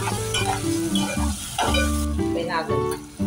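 Garlic, onion and tomato sauté in a home kitchen pan, giving a steady close sizzle with stirring over a continuous tonal background.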